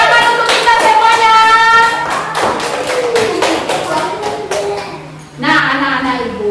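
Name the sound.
classroom applause for the children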